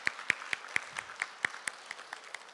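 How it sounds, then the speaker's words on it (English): At a junior high spelling bee, a few people clap sparsely and faintly at a distance, with scattered distinct claps spaced unevenly across the room. "Let's give those who are out a big round of applause"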